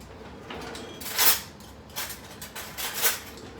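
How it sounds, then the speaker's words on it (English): A spoon is pulled from among cutlery, giving several distinct metallic clinks and rattles in a few short bursts, close by with quiet gaps between. "let me get a spoon"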